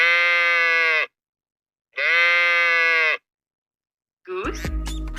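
A sheep bleats twice, each long wavering call lasting about a second and separated by silence, before a brief burst of other noise.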